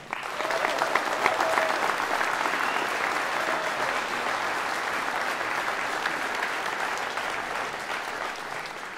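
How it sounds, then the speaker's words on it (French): Sustained crowd applause at a final campaign rally in France, a steady loud wash of many hands clapping for nine seconds without pause. "Je vous demande un tonnerre d'applaudissements pour Karen Chaffin."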